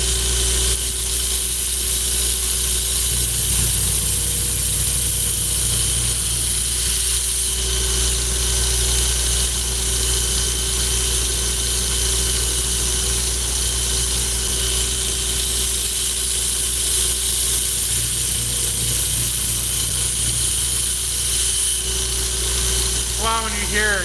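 Belt grinder grinding a bevel on a knife blade, a loud, continuous motor whine and abrasive hiss running steadily throughout with little variation, with speech faintly underneath.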